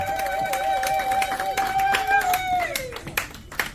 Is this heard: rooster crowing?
no